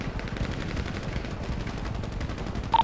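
Dense, continuous rapid gunfire from a GTA 5 roleplay shootout between players and army and police forces, with automatic bursts rattling steadily and loudly throughout, ending with a sharp tone.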